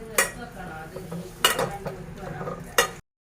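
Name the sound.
stirring chicken curry with curry leaves in a pot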